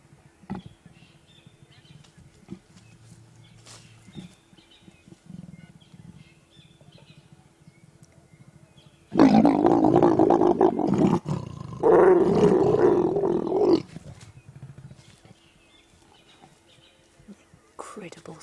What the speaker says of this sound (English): A leopard mating.